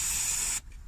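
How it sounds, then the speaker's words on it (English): A short hiss of penetrating oil sprayed from a can onto seized suspension bolts on a Ford Focus, a single close burst of about half a second that cuts off into near silence. "bit of penetrating oil on these bolts"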